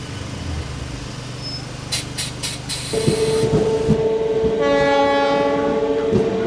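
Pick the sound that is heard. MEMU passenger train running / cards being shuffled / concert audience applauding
MEMU passenger train running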